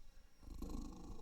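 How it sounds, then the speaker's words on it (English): An elderly pet cat purrs right up against a microphone, a steady, close, low rumble that swells after a quiet start and keeps going without pause. "you want to purr in the mic?"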